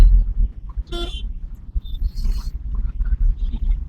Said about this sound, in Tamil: ஹார்ன் அடிங்க, நல்லா கொடுங்க.